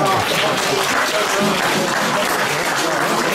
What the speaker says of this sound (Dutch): vind ik dat de dirigent en zijn koor ook een geweldig applaus maken